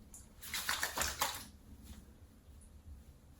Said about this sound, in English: Let me wash my hand first.